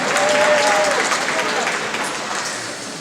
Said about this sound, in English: You can clap, Mizzou fans.